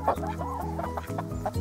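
A hen clucks repeatedly at close range in a farmyard shared with ducks, a steady run of short, throaty calls with no talk.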